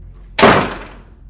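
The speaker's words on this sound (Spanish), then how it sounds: "la puerta del estudio se cerró con un estruendo." A studio door in an old haunted house slams shut with one loud, close crash that rings out and fades over about a second, with no other sound around it.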